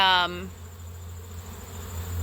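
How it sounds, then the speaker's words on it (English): Honey bees buzz around a sugar-water feeder, a steady close insect hum running throughout, with a brief louder tonal burst at the very start before settling into a continuous drone. "the coming and going of the bees"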